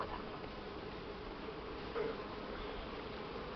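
Honeybees buzzing around an open hive while supers are added, a faint continuous hum in the background with no speech.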